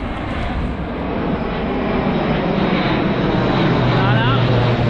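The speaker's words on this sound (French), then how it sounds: "Encore, d'autres avions." Broad, steady engine roar of aircraft passing overhead during a 14 July Bastille Day flypast in Beynes, France, building slightly in loudness, with a faint voice underneath.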